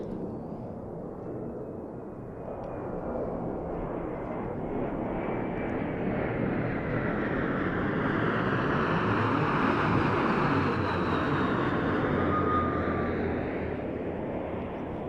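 An Embraer E175 jet airliner roaring steadily overhead near Denver International Airport, a broad rumbling engine noise that swells slightly and holds, heard from a distance outdoors.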